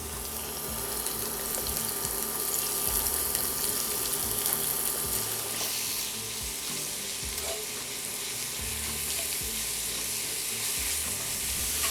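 Sauerkraut fries in hot vegetable oil in an old cast iron skillet, a steady close crackling sizzle running without pause, with occasional stirring scrapes.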